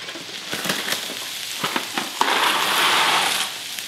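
Pasta is dumped into a pot of boiling water, with scattered clinks and rattles followed by a rising hiss and bubbling surge, close and moderately loud.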